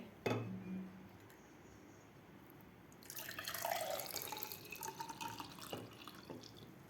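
Lemon mint sharbat is poured into two glasses, a faint splashing stream that starts after a short quiet pause and a clink, then runs steadily for several seconds, close by and without talk.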